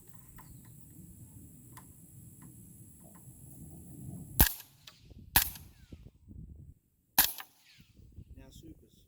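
An AR-style rifle with a 14-inch suppressor fires subsonic rounds, three sharp muffled cracks spaced about a second or two apart, over quiet outdoor background with faint talk before.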